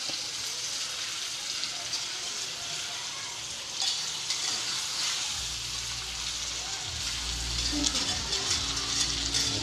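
Alamang shrimp paste frying in hot oil with a steady broadband sizzle throughout, a low rumble joining partway, and a voice speaking over the cooking.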